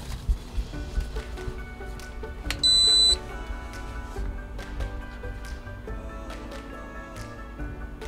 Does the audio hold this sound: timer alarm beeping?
yes